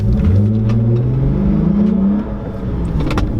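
Lexus IS250 engine revving hard under acceleration, a loud steady drone with rising harmonics that climb in pitch, then ease slightly near the end; no talking.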